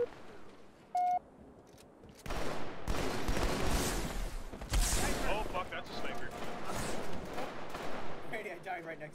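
Sniper rifle and other gunfire in the Halo Online shooter game, a burst of loud overlapping shots and rapid fire that keeps up over several seconds after a brief beep near the start.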